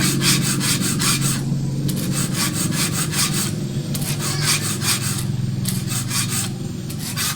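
A hand file rasps rhythmically across the teeth of a hand saw, repeated scraping strokes in steady bursts, close and loud, with no talking.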